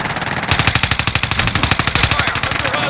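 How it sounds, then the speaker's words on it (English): Rapid, steady machine gun fire in a video game, a close and loud burst of evenly spaced shots lasting a few seconds after a brief lead-in. "Stop shooting at me!"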